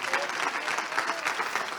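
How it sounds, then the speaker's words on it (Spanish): A church congregation bursts into dense, loud applause for the Lord, a steady wash of many hands clapping close and full throughout the brief moment. "va a dar el aplauso al Señor"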